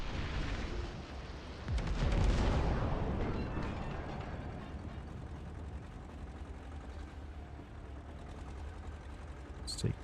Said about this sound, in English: Drop some napalm.